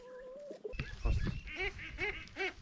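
A duckling on a farm gives a series of thin, chirping cheeps, several short calls in a row, fairly faint and close, with a soft rustle and low background noise between them.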